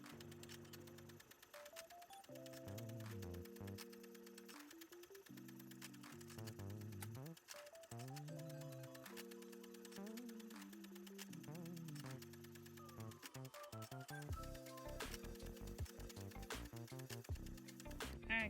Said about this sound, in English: we're going to print all of the odd pages first